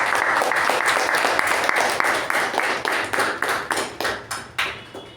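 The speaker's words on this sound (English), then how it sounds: "Let's give him a round of applause for that." Applause from a Toastmasters club meeting audience, steady dense clapping that gradually thins into slower, separate claps before fading out.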